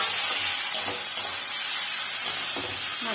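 Mustard paste fries in oil in a pan with a dense, continuous sizzle and hiss, while a utensil scrapes and stirs at a few irregular moments. No one speaks.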